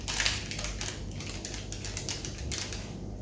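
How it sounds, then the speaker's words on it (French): A cookie cutter is pressed through a cake layer for a strawberry fraisier, making a close run of soft crunchy clicks and scrapes. No one speaks. "je coupe avec un emporte-pièce"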